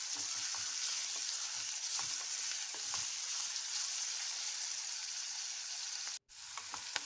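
Onions fry in oil in a pan, giving a steady, close crackling sizzle with scattered pops throughout; it cuts out briefly near the end, then resumes.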